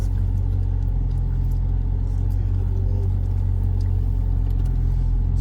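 Steady low engine drone of a Toyota Supra Launch Edition with 425 hp, heard from inside the cabin while cruising, a constant rumble with no talking.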